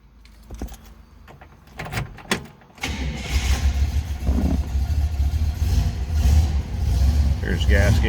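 A 1965 Buick Sport Wagon Custom engine cranks after a few clicks and door-like knocks, then catches and settles into a steady, loud, close idle that carries on to the end.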